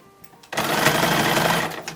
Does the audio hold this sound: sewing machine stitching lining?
yes